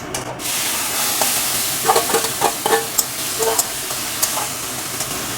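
Boiled potatoes and whole cumin seeds fry in a pan, a steady close sizzle with a scatter of sharp pops and spatters across the middle, and no voices over it.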